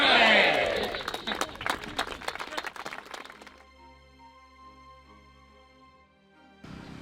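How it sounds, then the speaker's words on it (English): A crowd at an outdoor street-naming ceremony in Cleveland bursts into a loud, brief cheer, with clapping and voices together. The noise fades within a few seconds into quieter ambience, and a short burst of sound returns at the end. "we should have one little cheer for Ed Hauser"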